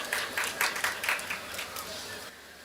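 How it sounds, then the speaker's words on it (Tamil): Scattered clapping from a lecture audience in a Tamil talk hall, a few uneven bursts of hands rising and fading under a steady murmur of the crowd, moderately loud. "புரிந்தவர்கள் கைத்தட்டுகிறார்கள்"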